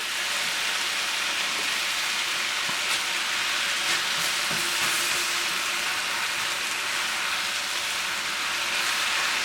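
Vegetable japchae glass noodles heating in a hot pan after liquid is added give off a steady, dense sizzle that holds evenly throughout, close and fairly loud with faint scattered crackles.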